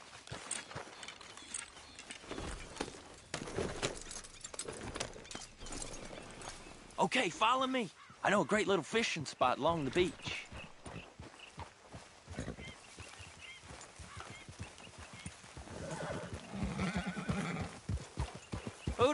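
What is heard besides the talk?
horse galloping, hooves clip-clop, in Red Dead Redemption 2 video game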